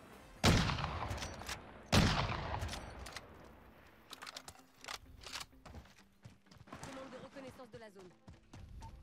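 Gunfire in the video game Warzone with a Swiss K31 rifle: two loud, sharp single shots about a second and a half apart, followed by quieter in-game clatter and a voice talking.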